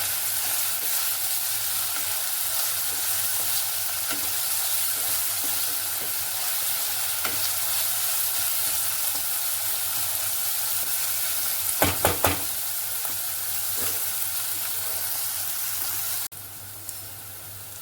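Onion and potato sautéing with salt in a pan for a dry spinach-potato dish, a soft, steady sizzle close by with occasional faint utensil taps and a brief cluster of clinks before the level drops.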